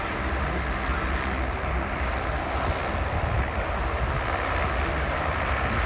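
A Qantas A380 airliner on its takeoff roll at Sydney Airport, a continuous loud broadband jet roar that holds steady and dense from start to finish, with no voices.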